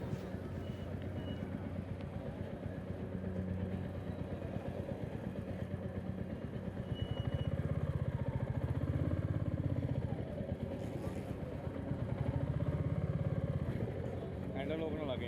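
Motorcycle engine idling steadily and fairly close at a parking area near Fatehgarh Sahib after a long ride, a low continuous rumble that swells louder for a few seconds midway, with voices faintly mixed in.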